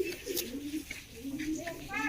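Domestic pigeon cooing softly in a recurring low murmur, heard close under someone speaking Hindi during a hobby pigeon-keeping display.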